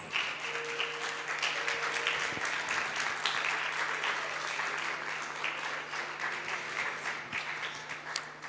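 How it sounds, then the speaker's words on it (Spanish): A church congregation applauds the Lord in a steady, dense wash of clapping that fills the room at even loudness, with a faint sustained tone and murmuring voices underneath. "Le damos un aplauso al Señor."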